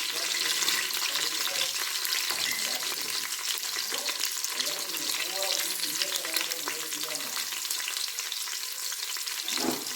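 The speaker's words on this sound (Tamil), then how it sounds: "வெங்காயமும் கருவேப்பிலையும் போட்டுக்கலாம்." Onions and curry leaves fry in hot oil for a country chicken curry, giving a steady, close sizzle with crackling pops and occasional stirring scrapes that run the whole time, with no talk over it.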